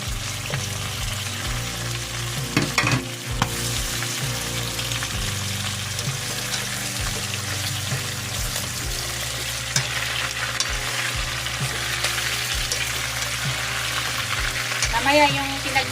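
Pork liempo fries in a pan while more pieces are added and stirred, giving a steady, loud crackling sizzle with repeated scrapes and clunks of the utensil throughout, close by and without speech.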